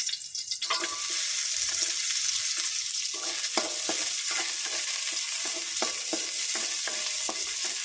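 Onions sautéing in a pan give a loud, continuous sizzle, with repeated scraping and tapping of a spoon as they are stirred.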